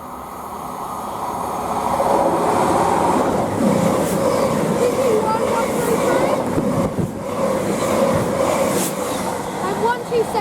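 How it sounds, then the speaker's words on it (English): A passenger train on a Manchester Piccadilly to Reading service rolls past at Kings Sutton, a sustained loud rumble and clatter of wheels that builds and holds throughout, with voices audible underneath. "the next train to pass by is a service from Manchester Piccadilly to Reading"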